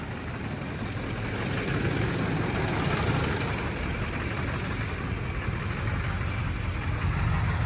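A cheap Duramax diesel truck engine idles steadily at close range, a constant low clattering rumble with a broad exhaust hiss, holding even for several seconds without talk.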